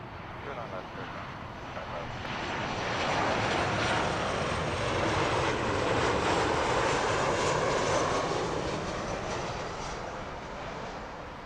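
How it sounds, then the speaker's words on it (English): A KLM Boeing 737-800 arriving from Amsterdam lands on runway 09 left at Heathrow, its engines a broad, steady roar that swells to a peak midway and then eases off, with a voice talking over it. "This is KLM's 737-800, jumping across from Amsterdam"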